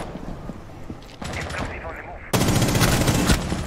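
Bursts of automatic gunfire from a Rainbow Six Siege match, starting as scattered shots, then intensifying into a loud, sustained rapid-fire volley in the second half, with a voice talking beneath it.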